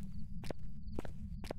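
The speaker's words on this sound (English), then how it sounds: "That's where I heard footsteps again." Footsteps in the video game Phasmophobia, three soft thuds evenly spaced about half a second apart over a steady low background hum, faint and somewhat muffled.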